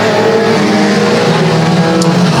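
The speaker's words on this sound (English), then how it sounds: "Off and racing here at Sauble Speedway" Stock race cars roar around the Sauble Speedway oval at the start of a pole qualifier, a loud, continuous blend of engines that stays up close for the whole stretch.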